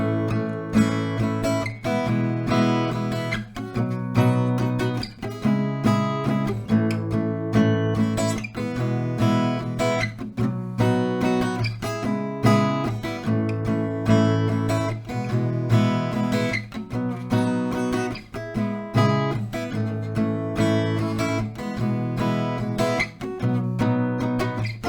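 Acoustic guitar strums a repeating chord progression from a song in a steady up-and-down strumming pattern, played solo and evenly loud throughout with no voices.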